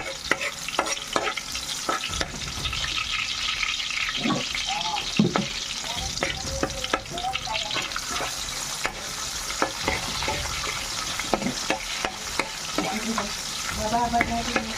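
Pancit noodles being stirred and fried in a pan, a continuous sizzle under repeated scraping and clanking of the spatula, close and busy throughout with no speech.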